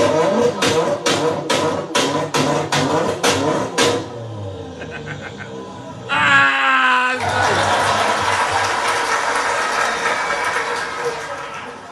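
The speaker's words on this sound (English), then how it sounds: "You ever heard an engine rev and then it backfires" A car engine revs and backfires, opening with a loud train of rhythmic sputtering pops, then a brief rising whine before settling into a sustained rough, roaring drone.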